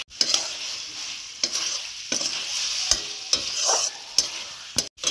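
Curry being stirred in a hot pan after roasted peanuts and fried spice mix go in: a spoon scrapes and knocks against the metal in repeated strokes over a soft, steady sizzle, close up and without talk.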